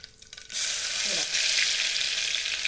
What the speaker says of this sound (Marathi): ह्या लसूणाला आहे ना चांगला फ्राय करायचा आहे